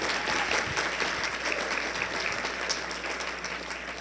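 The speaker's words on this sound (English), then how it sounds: "Applause." An audience applauds as a college dean is introduced before an evening physics lecture, steady crowd clapping heard at moderate distance and fairly even level throughout.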